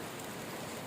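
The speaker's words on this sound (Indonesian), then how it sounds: "Hujan." Rain falls in a steady, even hiss of dense droplets, a brief continuous wash with no voices.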